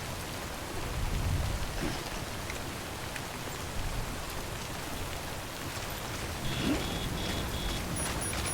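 Steady rain falls in the video game Death Stranding on hard difficulty, a soft, even hiss of drops that continues throughout with no talking.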